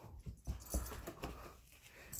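A chocolate Labrador puppy playing with new toys, including a plush pig, makes soft huffs, snuffles and faint whimpers, close but quiet, in short irregular bursts.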